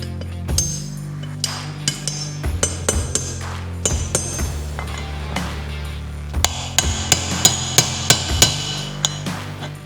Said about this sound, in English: So I'm just gonna drive these outer races and inner races in, and then press this hub in there